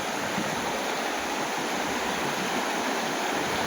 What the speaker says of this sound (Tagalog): Malakas din yung agos ng tubig.